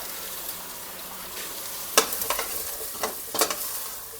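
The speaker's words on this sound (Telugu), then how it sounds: "మునక్కాడ వేసుకొని కొద్దిగా ఫ్రై అవ్వాలి" Drumstick pieces frying in oil with ginger garlic paste, a gentle steady sizzle broken by several sharp spoon scrapes and clanks against the pan in the second half.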